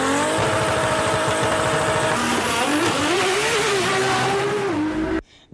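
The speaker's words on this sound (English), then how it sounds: "everybody knows that this is a real sports car." Loud, close sports car engine roaring and revving, the pitch climbing and dipping through acceleration before cutting off abruptly near the end.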